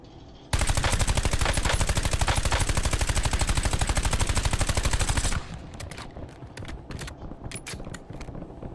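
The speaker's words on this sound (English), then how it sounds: "Why am I shooting at people that are so far away?" Loud, rapid automatic gunfire in a squad-based shooter video game rattles continuously for about five seconds, then cuts off, leaving quieter in-game ambience with scattered faint clicks.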